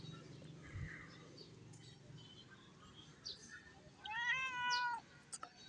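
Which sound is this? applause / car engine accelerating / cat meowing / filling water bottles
cat meowing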